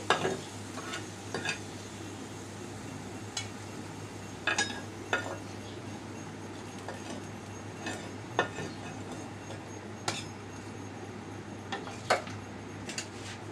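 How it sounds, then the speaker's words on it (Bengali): Garlic cloves frying in a pan until reddened, for spicy daal vorta: a steady low sizzle runs throughout, broken by scattered sharp clicks and scrapes of stirring, with no voices. "লাল করে রসুনগুলো বেজে নিয়েছি"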